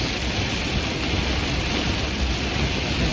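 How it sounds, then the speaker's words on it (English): Heavy storm rain drums on a moving vehicle while driving near Elk Point, a dense, steady roar with no gaps and no talking. "We're going to go through some heavier rain here"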